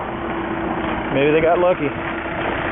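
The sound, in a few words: car engine starting and idling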